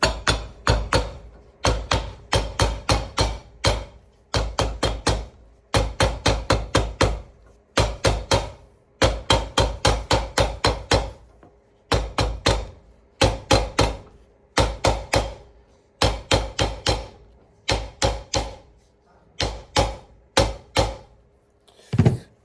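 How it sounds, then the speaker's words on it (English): Rapid bursts of sharp hammer taps on boot heel top lifts during an Alden boot resole, struck in quick clusters of several blows with short pauses between, close and crisp. "just hammer them together"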